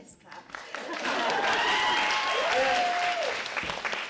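Clapping from a studio audience during a Hollywood interview, a steady wash of applause that rises and holds, with a voice speaking faintly beneath it.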